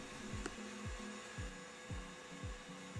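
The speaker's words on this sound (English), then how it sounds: "You want to make sure that your mixer is on high speed" An electric mixer on high speed whips egg yolks while hot syrup is added for French buttercream, giving a faint, steady motor whir with a regular pulsing rhythm.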